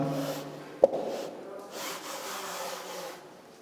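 Chalk being rubbed off a lecture blackboard, a dry scraping wipe under a faint room hum with one sharp knock near the start and no talk.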